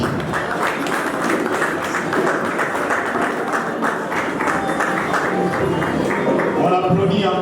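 An audience applauds at a university ceremony welcoming new students in Kolwezi, with dense, steady clapping that fills the whole stretch and a voice or background sound faintly mixed underneath.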